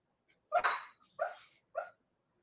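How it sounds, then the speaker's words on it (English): A dog dreaming in its sleep lets out a few muffled whimpering yips, three short close bursts spaced about half a second apart after a tiny first sound, alone against silence. "my new dog having a dream or a nightmare"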